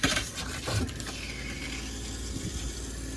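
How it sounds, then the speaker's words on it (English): An RV's onboard water pump hums steadily while an inside sink faucet runs open during de-winterizing, water splashing continuously at moderate level with no pause. "every time I open a faucet, my water pump will run"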